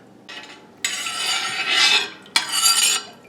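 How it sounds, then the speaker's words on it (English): Vinegar mixture for preserving okra being stirred in a pot, a few close bursts of scraping and swishing from a utensil against the pot, with short pauses between strokes and no talk. "I got everything stirred up."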